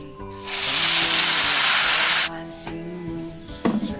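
Water hits a hot pan for a fish-bone dish with doubanjiang, scallions and ginger, bursting into a loud close hiss of steam that lasts about two seconds, then cuts off, leaving faint clinks and bubbling.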